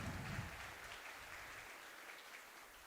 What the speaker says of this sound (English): let's give a giant round of applause for all of our family members